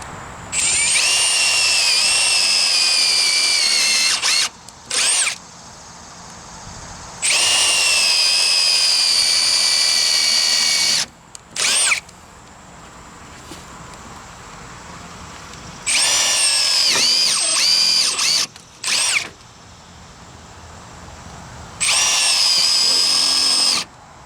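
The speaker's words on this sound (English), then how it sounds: "we'll pre-drill the holes" A power drill fitted with a countersink bit pre-drills holes in deck boards during installation. It whines loudly in several bursts of a few seconds each, with quick short blips between them and quiet gaps, and no one talks.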